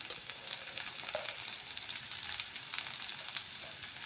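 Onions and curry leaves frying in hot oil, an even, continuous sizzling hiss with faint crackles, close and steady throughout and no voices.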